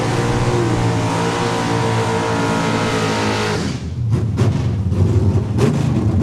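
At a drag strip, a Camaro and a Mustang roar loudly and steadily at high revs, then the sound shifts as the engines drop and pick back up into rising acceleration with sharp bursts, close to the listener.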